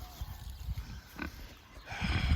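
Feeder pigs in a small pen give low, irregular grunts through the clip, growing a little louder and busier toward the end against a steady background hum.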